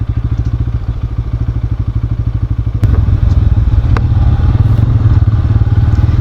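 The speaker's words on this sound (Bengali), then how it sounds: "এই বাইকটা রাইড করতে আমার কাছে খুবই ভালো লাগে" Bajaj Pulsar N160 motorcycle engine idling nearby, a steady rapid thumping pulse that grows louder and rougher partway through as the revs rise, with a couple of sharp clicks.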